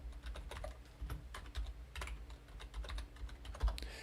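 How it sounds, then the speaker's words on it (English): Rapid clicky keystrokes on a vintage computer keyboard, irregular bursts of close, crisp taps with short pauses between, playing alone with no talk. "I bought this vintage keyboard down here. You could probably hear it typing."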